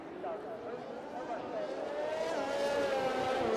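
Race cars in the F1 2021 video game rolling around Imola on the formation lap, a steady droning engine tone with rising and falling pitch, held at a continuous moderate level with no gaps.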